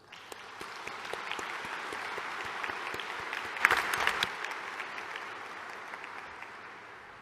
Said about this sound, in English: Let us give a round of applause for our MC13 host, the United Arab Emirates